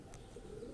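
Pigeons at a loft keeping several breeds, including Lakka, Madras, Saharanpuri and Napta, give a soft, steady low coo in a brief continuous murmur with no voices present.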